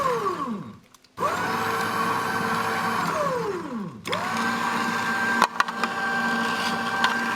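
A Koenig GSX12 juice extractor runs in reverse with a carrot jammed inside, giving a steady, close motor hum that winds down, cuts out briefly and starts again, with small clicks and knocks near the end.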